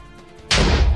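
A Minecraft explosion set off against a modded block, a sudden loud blast that bursts in after a quiet lead-in and rumbles on noisily to the end.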